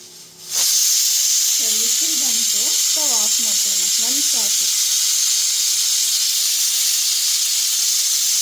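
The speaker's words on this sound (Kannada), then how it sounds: "ಇವಾಗ ಕ್ಯಾಪ್ ಹಾಕ್ಕೊಳ್ಳೋಣ ಒಂದು ವಿಷಲ್ ಬರ್ಸ್ಕೊಳ್ಳೋಣ" A pressure cooker with goat head and trotter curry inside lets out loud, steady hissing steam, with a few brief warbling whistle-like tones rising over the hiss partway through.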